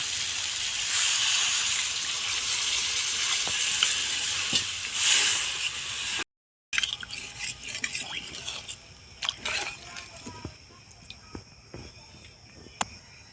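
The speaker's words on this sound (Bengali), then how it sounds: "সবজি কষানো হয়ে গিয়েছে এখন আমি জল দিয়ে দেব" Sautéed ridge gourd and potato sizzle steadily in a pan, then after a brief break water goes in and the hiss turns into a softer bubbling with scattered stirring clinks.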